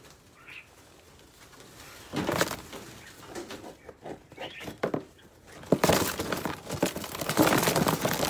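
Pigeons or doves coo amid bird calls in a noisy setting, with intermittent clattering and bursts of louder broadband noise over a low background rumble.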